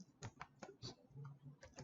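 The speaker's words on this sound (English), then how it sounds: "So you see me typing it here and you immediately see the output." Quick, quiet keystrokes tap on a computer keyboard in an uneven burst of about a dozen clicks, close by and with no voices.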